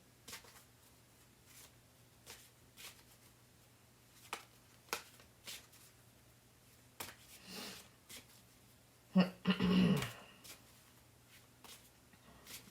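Tarot cards are shuffled quietly in soft, scattered riffles and taps, with a louder, longer burst of shuffling near the end.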